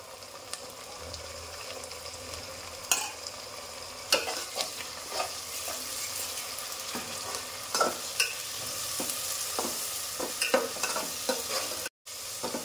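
Ginger-garlic paste frying in a pan, a soft, fairly quiet sizzle punctuated by repeated spoon scrapes and taps against the metal.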